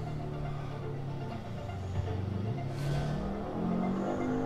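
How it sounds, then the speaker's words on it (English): Car engine in the BeamNG.drive driving game, said to resemble a Lexus engine, giving a steady mid-level hum with slowly rising and shifting pitch as it revs under a constant rumble; no voices. "The engine sounds nice. It's like a Lexus engine."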